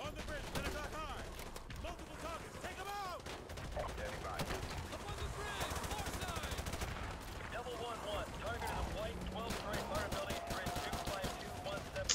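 Sustained gunfire in the Modern Warfare 2 Campaign Remastered game rattles in rapid, continuous bursts of shots at steady loudness, layered with radio chatter and voices throughout.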